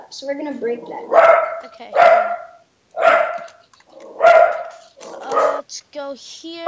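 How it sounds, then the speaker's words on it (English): Dog barking in several sharp bursts close to the microphone, with people talking between and over the barks. "Sorry, that's my dog."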